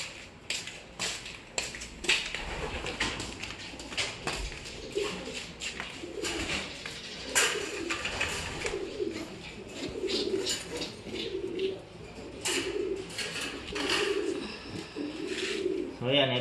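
Young pigeon squab giving repeated soft cries and coos, close to the microphone, amid faint rustling and broadband background noise.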